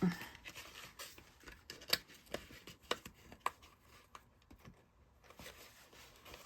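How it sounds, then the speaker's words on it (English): Scissors snip small paper tabs off a mini calendar sticky-note holder, producing a series of faint, close, crisp cuts at an irregular pace. "I'm going to cut off these little tabs"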